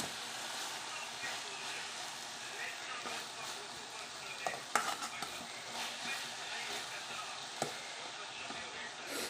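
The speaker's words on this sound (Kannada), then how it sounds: "ನೀಟಾಗಿ ಎಣ್ಣೆಯಲ್ಲೇ ರೋಸ್ಟ್ ಆಗ್ತಿದೆ ನೋಡಿ." Tomatoes roast in oil in a pan, giving a soft, continuous sizzle with occasional light stirring clicks, fairly faint, while a person talks over it.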